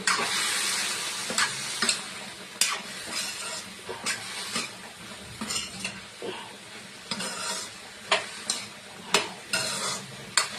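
A spoon stirs curry seasoned with turmeric in a pan over a soft, continuous sizzle. Repeated scraping and clinking strokes rise and fall in an uneven rhythm, close and clear, with no talking.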